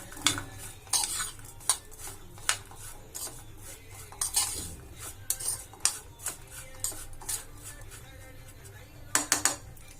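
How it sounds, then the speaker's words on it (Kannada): A spoon scrapes and clinks against a bowl while chaat with fresh coconut, tomato and lemon juice is tossed together, irregular close metallic taps and stirring over a quiet background, with a quick cluster of clinks near the end. "ಈಗ ಇದನ್ನೆಲ್ಲ ಎಲ್ಲಾನು ಮಿಕ್ಸ್ ಮಾಡ್ಕೊಂಡು"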